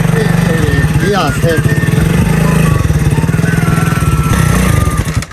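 A motorcycle engine struggles and chugs roughly in a loud, rapid pulsing rhythm close by, sputtering unevenly as it labours to catch and run.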